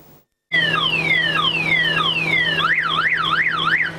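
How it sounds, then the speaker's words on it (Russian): A car alarm wails in the night on a residential street, cycling through falling tone sweeps and then a rapid rising-and-falling warble, loud and continuous after a brief silent start, with no voices. "Ночью жильцов одного из домов по улице Карбышева разбудил вой автомобильной сигнализации."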